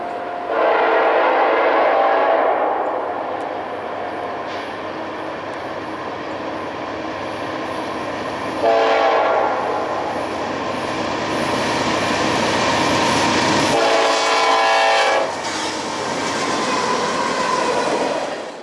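A CP freight train led by NS 9830 and a UPGE locomotive rumbles steadily past nearby on BNSF's Hinckley Subdivision, loud throughout, with rolling wheel noise and surges of clattering as cars go by, no voices.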